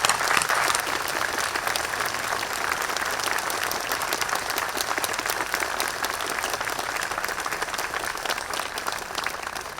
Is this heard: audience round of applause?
yes